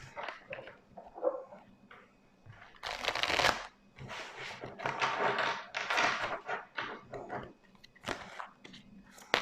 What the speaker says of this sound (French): Je vais devoir poser les cartes.